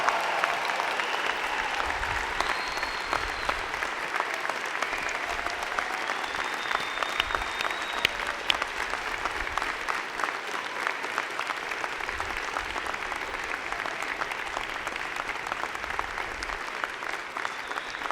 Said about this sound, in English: I ask your friends, family, and members of the platform party to join me in applauding the amazing graduating class